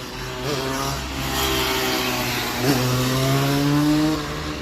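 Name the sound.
motorcycle passing by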